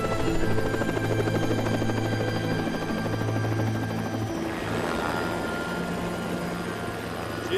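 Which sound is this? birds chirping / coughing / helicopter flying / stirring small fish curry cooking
helicopter flying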